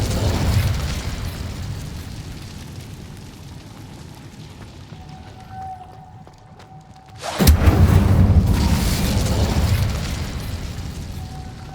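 A fire spell cast in the video game Hogwarts Legacy bursts in as a sudden loud blast partway through, then a roaring, crackling rush that stays strong to the end, following a quieter stretch of game ambience.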